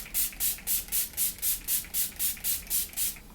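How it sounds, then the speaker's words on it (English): Makeup Revolution Matte Fix Oil Control Fixing Spray is misted onto a face in a steady run of about thirteen rapid, evenly spaced hissing pumps, close and clear with no talking. "Now I'm going to set my face with the Makeup Revolution Matte Fix Oil Control Fixing"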